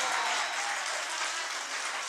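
Continuous applause from a live comedy show audience, steady and fairly loud throughout with no gaps.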